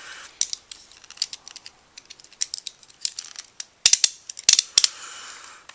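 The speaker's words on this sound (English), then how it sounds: "I should have got some scissors for this, but I don't have any to hand" A knife slices open a shipping package by hand, giving scattered crisp snaps, scrapes and plastic crackles up close. Short bursts cluster near the end, with no talking.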